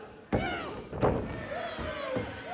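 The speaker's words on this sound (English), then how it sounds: "What a suplex." A wrestler slammed to the ring mat by a suplex at a Pride of Wrestling event, a heavy thud among crowd noise with a commentator talking over it.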